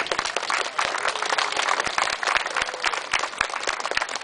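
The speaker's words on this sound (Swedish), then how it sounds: "vi ger båda lagen en jättestor applåd och gratulerar till segern" A studio audience applauds both teams after a cooking duel, a sustained round of clapping with sharp individual claps standing out from a dense, steady wash.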